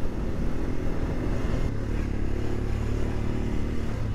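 A 2024 Royal Enfield Scram 411 single-cylinder motorcycle engine hums steadily and loudly while riding through São Paulo traffic, a constant close rumble with a slight shift in pitch midway and no talk.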